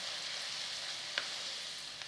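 Onions fry in a pan for a spinach quiche, giving a faint, steady sizzle with a couple of brief clicks of a utensil against the pan, no voices.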